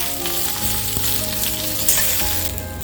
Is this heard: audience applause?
no